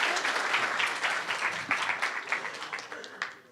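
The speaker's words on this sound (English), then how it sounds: "So can we have a big round of applause for Steph" A conference audience applauds a speaker named Steph, a dense steady patter of many hands clapping at moderate volume that thins slightly toward the end.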